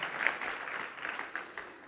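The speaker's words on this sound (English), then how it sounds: "Will you guys please give her a huge round of applause?" Audience applause at a tech conference stage, steady clapping sustained throughout with no voices on top.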